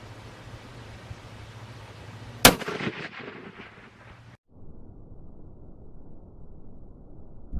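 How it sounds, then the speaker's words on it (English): A rifle fired from a bipod at a 12-inch plate 770 yards away gives one loud sharp crack, followed by a rolling echo that fades into quiet outdoor ambience. "we were shooting it, listen, not long range for us, but still 770 yards on a 12-inch plate"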